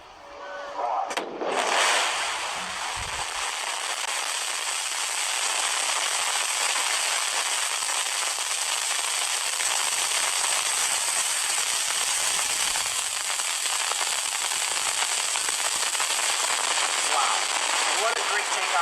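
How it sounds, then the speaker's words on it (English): A sharp burst at ignition of a New Shepard rocket followed by a loud, sustained rocket roar, a broad crackling rumble that holds steady and builds slightly over the whole stretch. "command engine start. 2, 1, ignition."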